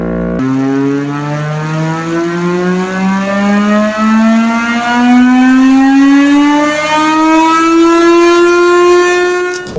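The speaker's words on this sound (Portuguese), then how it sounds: "essa sirene é só uma sirene de demonstração" A loud demonstration siren from a digital siren unit wails steadily, its pitch sweeping slowly upward over several seconds, heard alone without talk.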